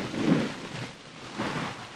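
Rain falls during a Telugu film scene while two low, muffled thunder rumbles roll through, fairly faint and without speech.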